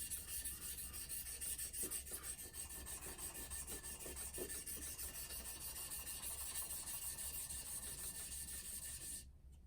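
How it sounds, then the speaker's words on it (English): EDC folding knife blade pushed flat along a sharpening stone, giving continuous rasping scrapes with a faint rhythmic stroke pattern, close and fairly loud, ending abruptly near the end. "we're going to have to make the blade parallel to the stone and push like that"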